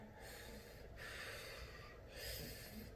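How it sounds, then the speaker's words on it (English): Deep belly breathing during a group acting-class warm-up: slow, full, audible breaths, an inhale then a second long breath, close and steady with no talking. "we're breathing from the belly"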